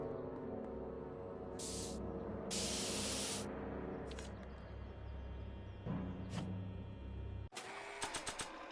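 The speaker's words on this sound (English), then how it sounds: "My spray can?" Spray paint can in the Back to the Future game hisses in short bursts: a brief spurt, a longer sustained spray, then a rapid run of quick puffs near the end.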